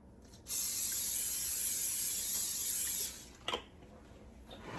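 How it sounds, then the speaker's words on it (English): A steady hissing spray of cooking oil from an aerosol can into a crock pot lasts about two and a half seconds, close up, followed by faint clatter. "I'm going to spray my pan."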